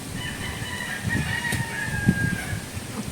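A chicken clucks and a rooster crows through the clip, with steady low outdoor background noise beneath.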